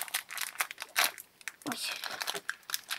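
A plastic packet of jelly candies is torn open, giving a run of sharp crinkling and rustling bursts close up, with a person speaking briefly over it.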